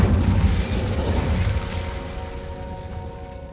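Incendio fire spell cast in the Hogwarts Legacy video game, a loud burst and whooshing flame at the start that rumbles and fades into a lingering magical hum.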